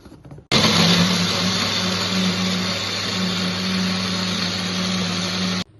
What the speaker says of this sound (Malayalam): നമുക്കിത് നല്ലപോലെ ഒന്ന് അരച്ചെടുക്കാം ഒട്ടും കട്ടയില്ലാണ്ട് അരക്കണേ